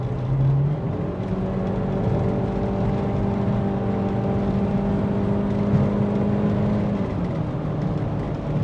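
A Mk4 Jetta with a Tiptronic automatic transmission runs at full throttle, a sustained engine drone with a climbing whir and pitch shifts as the gearbox kicks down and changes gear, steady and close with no talking.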